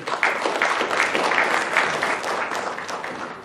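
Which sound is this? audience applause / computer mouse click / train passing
audience applause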